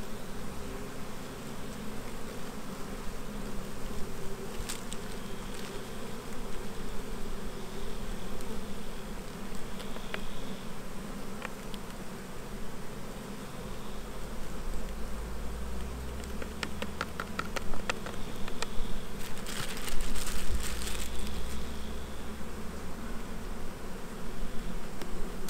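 Honey bees buzz in a steady, even drone while being worked through a mesh for a sugar shake, with a low rumble of handling midway and no talking.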